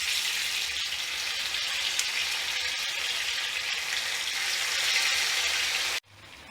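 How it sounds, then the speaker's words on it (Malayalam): Marinated chicken pieces sizzle in oil left over from frying onions for biryani, a bright steady crackle that holds evenly for about six seconds before cutting off. "അതിലേക്ക് നമുക്ക് ചിക്കൻ ഓരോന്നായിട്ട് പറക്കി വെക്കാം."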